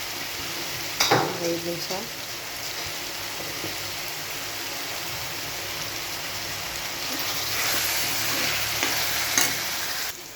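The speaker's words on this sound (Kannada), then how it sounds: "ಹಾಕ್ಬಿಟ್ಟು ಚೆನ್ನಾಗಿ ಫ್ರೈ ಮಾಡೋಣ" Chopped tomatoes and capsicum frying in a pan over a medium flame, a steady close sizzle with a brief clatter of stirring near the start and a swell later, a voice speaking briefly.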